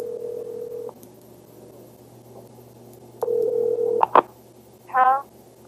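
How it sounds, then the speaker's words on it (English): A telephone receiver with a steady dial tone that cuts off, followed by short dialing tones and a brief ringing burst while a call is placed to a pay station number. "Tony places a call to the pay station number."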